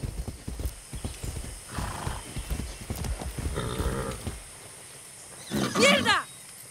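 A horse gallops in Far Cry 6 with hooves clattering under a voice, then lets out a loud, clear neigh near the end.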